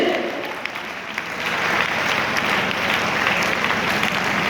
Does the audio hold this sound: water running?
no